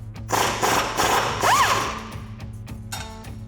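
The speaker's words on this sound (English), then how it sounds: "Repeat that with the upper bolt with an 18mm wrench and a 15mm socket" A ratchet with a 15mm socket, braced by an 18mm wrench, works loose the upper shock bolt on a 2004–2008 Ford F-150, giving quick close clicking bursts over a low mechanical hum.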